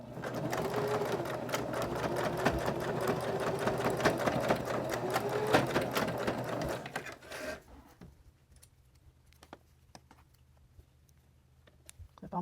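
A sewing machine stitches a chapstick keychain holder, a rapid, even mechanical patter for about seven seconds before stopping, followed by a few faint clicks and handling sounds in near silence.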